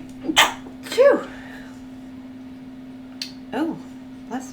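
Single sneeze followed by a voiced exhalation, close and fairly loud, then a couple of quieter vocal sounds over a steady electrical hum.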